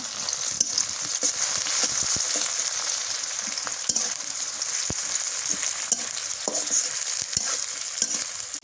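Duck curry spices (cardamom, cloves, cinnamon, garam masala), onion and bay leaf fry in hot oil, a steady loud sizzle broken by repeated scrapes and clicks of a stirring spoon in the pan, with no talk.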